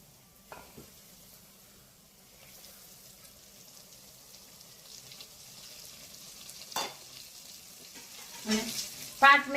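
Hot peanut oil is poured over a sour raw-mango pickle, giving a low, steady sizzle and crackle with a few louder splashy bursts toward the end. No one speaks.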